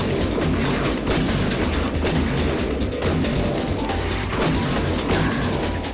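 An auto shotgun in Shadowgrounds fires continuously in a dense, loud barrage of rapid booming blasts and crashes that never lets up from start to finish.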